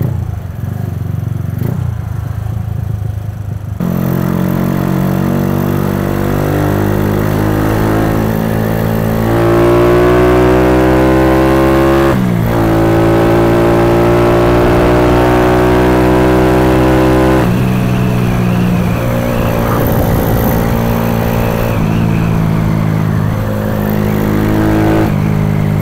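A Kawasaki Kaze R motorcycle fitted with a PWK 21 carburetor and short-throw throttle revs loudly up close, its engine note climbing and falling through repeated throttle blips over a steady idle.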